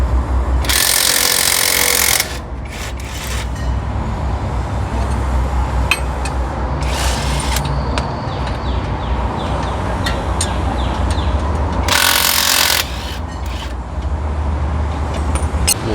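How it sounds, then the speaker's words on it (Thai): Impact gun loosening nuts on a car's shock absorber mount, two loud harsh rattling bursts of a couple of seconds each, with a few shorter hits between, over a constant garage hum; no speech. "หมุนน็อตให้มันคลาย หายจากแน่นแล้วเราค่อยเอาปืนยิงเอา"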